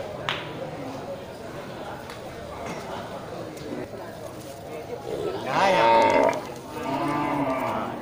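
Cattle at a busy livestock market ahead of Eid al-Adha give a loud, drawn-out moo near the end, while people talk throughout amid general crowd noise and shuffling.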